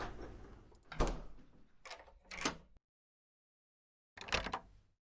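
Door open and close sound effects from Foundry VTT play as a few separate creaks and thuds, with a short silent gap before a final closing clunk.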